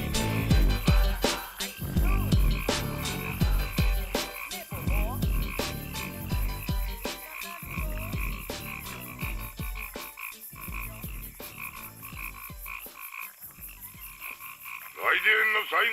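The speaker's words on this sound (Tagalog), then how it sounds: "naninilig na palaka" Croaking frog sounds woven into a fast OPM rap song with a dense, steady backing beat, the croaks repeating rhythmically throughout and getting louder near the end.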